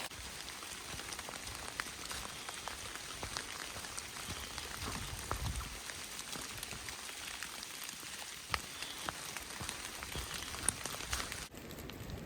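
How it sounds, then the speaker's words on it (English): Steady morning rain patters on a hiking trail, a dense even hiss with scattered drips and taps, fairly close, continuing throughout with no voices. "Even though it's raining this morning, it is beautiful."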